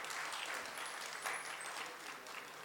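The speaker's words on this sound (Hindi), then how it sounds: "जो भी लोग ऐसे करते हैं उनके लिए पहले तो आप तालियां बजाइए" Audience applause during a Hindi spiritual talk, a steady wash of clapping from a crowd that holds at an even level for a few seconds with no voices over it.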